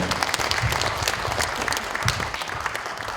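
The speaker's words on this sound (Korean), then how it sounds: "축사해 주신 우리 김승남 의원께 다시 한번 큰 박수 부탁드리겠습니다" An audience at a Korean lawmaker's legislative report meeting gives a big round of applause after a congratulatory speech, many hands clapping briskly and evenly, close and lively, with no speech over it.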